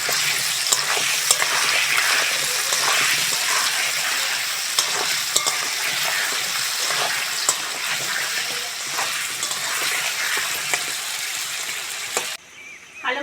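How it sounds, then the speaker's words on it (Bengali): Potatoes with salt and turmeric fry in hot oil, a dense continuous sizzle heard close up with light stirring clicks throughout. Near the end it cuts briefly to quieter sounds. "লবণ হলুদ আলুটা ভালো করে ভেজে নেবো"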